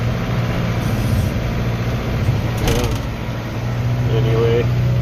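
A tractor's PTO drives a manure spreader cleaning out a barn, hitting hard chunks: a steady loud mechanical churning drone with clanking gears and creaks throughout.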